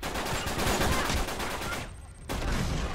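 Rapid bursts of gunfire in an Uncharted 3 multiplayer match, loud and dense for most of the stretch, dropping out for a moment before the shooting resumes.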